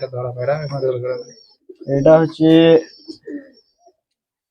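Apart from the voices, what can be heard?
Murshidabadi pigeon cooing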